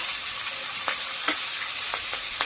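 Black cumin seeds and green chilies sizzle in hot frying oil in a wok, a dense, bright crackle with a few sharper pops, close and steady with no talking.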